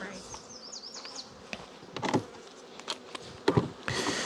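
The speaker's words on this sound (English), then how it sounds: "there's a couple of bees back in here" Honey bees buzz in and around an opened beehive frame, with high whining flight passes and several knocks and thumps of handling close by.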